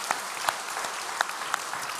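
A church congregation claps together during a Sunday worship service, a dense, steady patter of hands with a few sharper claps standing out over about two seconds.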